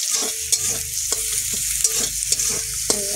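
Chicken egg seasoned with salt and turmeric is scrambled and fried in an oiled pan, with a steady close sizzle and repeated scraping stirs of the spatula every half second or so.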